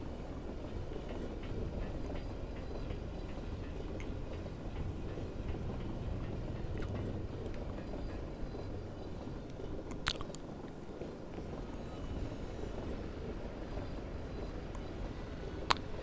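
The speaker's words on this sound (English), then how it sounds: "it kind of works with the machine sounds of that, like, elevator" Elevator machinery in Dark Souls, a faint low steady rumble and clatter like a moving train, with a couple of soft clicks over it.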